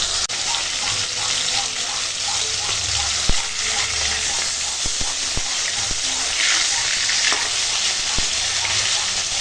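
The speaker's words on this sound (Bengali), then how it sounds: "মাছগুলো সব ছেড়ে দিই তেলে" Pomfret fish pieces sizzle loudly in hot oil, a dense continuous frying hiss with scattered sharp clicks and spatter pops, heard close up throughout.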